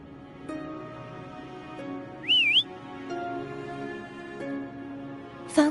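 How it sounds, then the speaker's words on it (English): A short rising-and-falling whistle, like a call to a pet, rings out alone over a quiet game soundscape of faint hum and soft tones in the Cyberpunk video game. "Try whistling."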